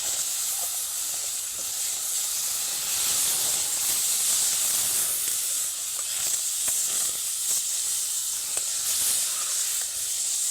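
Milk poured into roasted semolina in a hot pan gives a steady, loud hiss and steam sizzle lasting throughout, with faint scraping ticks under it.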